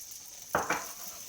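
Crushed garlic hits melted butter in a pan while cooking a leek risotto, giving two short, quiet sizzling bursts in close succession with no one speaking.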